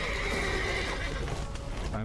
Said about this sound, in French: On va essayer de sauver les chevaux en même temps.